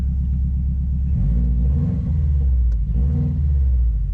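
A Subaru WRX with a Cobb stage 1+ tune gives a loud, deep engine rumble that swells and eases as it revs.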